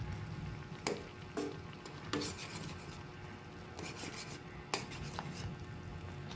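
Pineapple cooked down in a pan, stirred and mashed with a utensil: intermittent scraping strokes and clinks against the pan over a steady close bubbling sizzle.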